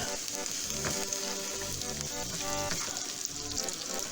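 Butter and mild olive oil fry in a pan at medium heat, giving a steady, dense sizzle and crackle throughout, close up with a few faint clinks; no talking.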